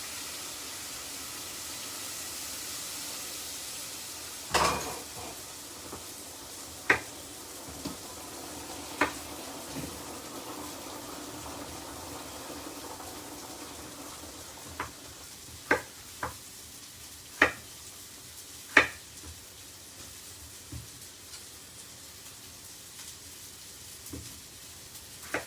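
Water hits a hot pan while potato wedges cook, giving a faint, steady sizzling hiss at close range, broken by scattered sharp clicks and taps, with no voices.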